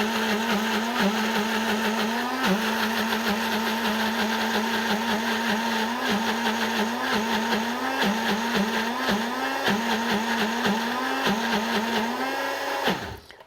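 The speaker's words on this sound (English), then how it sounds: "I honestly don't think my blender's loving that." A kitchen blender grinds lacto-fermented mustard seeds in a loud, continuous strained whir whose pitch wavers as the thick mixture catches, running steadily close up before cutting off at the end.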